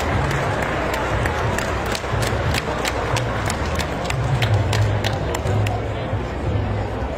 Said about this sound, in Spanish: Brindele un fuerte aplauso al ciudadano presidente municipal